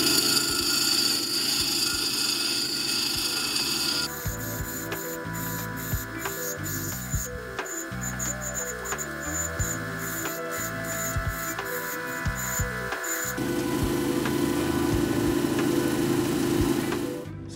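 An agate is ground on the 80 grit wheel of a Cabbing 6 lapidary cabbing machine, giving a steady close whirring motor hum with gritty grinding rasp that shifts in tone as the stone is pressed and lifted.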